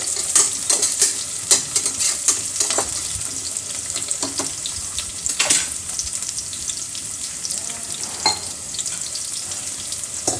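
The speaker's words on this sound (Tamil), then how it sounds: "இந்த பாருங்கள் நல்லா வெங்காயம் வந்து நல்லா வதங்கி வந்துட்டுருக்கு" Onions and green chillies fry loudly in a pan, a bright constant sizzle with repeated scraping strokes of a spatula and occasional clinks as they are stirred.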